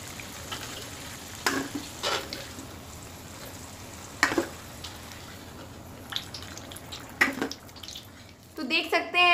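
Barule snacks fry in a pan, giving a soft continuous sizzle with occasional sharper bursts of crackle and stirring clinks, while someone talks through it.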